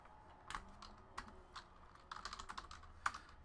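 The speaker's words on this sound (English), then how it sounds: "Now let's type in these hits" Keys clatter on a computer keyboard as sports card hits from a 2018 Leaf Valiant football box are entered, giving irregular bursts of quiet, close clicks with short pauses and no voices.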